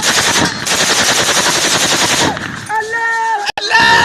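Rapid bursts of gunfire crackle loud and close, dense automatic shots rattling for over two seconds before tapering into scattered reports, with a voice or tonal sound emerging near the end.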